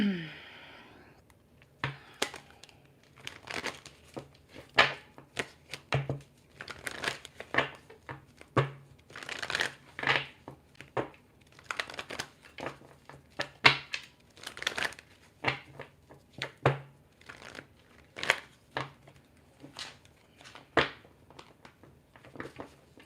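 Tarot cards are shuffled by hand with repeated short riffling and flicking bursts, close and fairly quiet. The rustles fall in an uneven rhythm with brief pauses between bursts.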